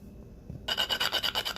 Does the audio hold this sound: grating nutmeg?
yes